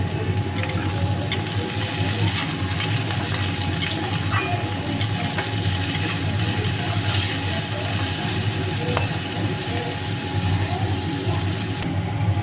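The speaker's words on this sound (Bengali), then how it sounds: "এর মধ্যে অল্প করে লবণ দিয়ে দিলাম, কারণ হচ্ছে এটা পেঁয়াজটা ভালো ভাজা হবে।" Onions frying in oil with a little salt sizzle steadily and loudly throughout, a dense continuous crackle close by with occasional light scraping and clinks.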